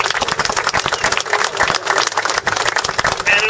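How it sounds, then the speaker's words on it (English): Audience applause at a Hurricane Irene press briefing with the Philadelphia mayor and Pennsylvania governor, honoring rescue volunteers; dense, steady clapping from a room of people, fairly loud and continuous throughout. "I think we all need to give them a round of applause and thanks"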